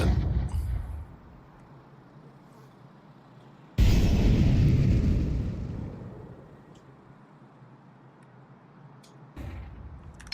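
A flashbang grenade goes off in Counter-Strike with a sudden loud burst that swells into a long ringing wash, slowly fading over several seconds, with a second softer burst near the end.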